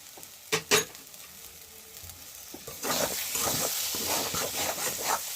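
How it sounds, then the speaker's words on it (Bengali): Pea filling for kachori is stirred in a pan after salt and sugar go in: a couple of sharp clinks, then a steady soft sizzle with scraping stir strokes, close and fairly quiet. "নুন মিষ্টি দিয়ে আমি পুরটাকে নেড়ে নিচ্ছি ভালো করে।"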